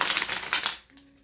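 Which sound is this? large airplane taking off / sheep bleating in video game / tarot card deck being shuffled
tarot card deck being shuffled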